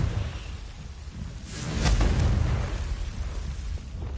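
A Confringo blasting spell in a wizard video game goes off as a single loud, rumbling explosive burst that swells midway and then tails off over a low, steady background.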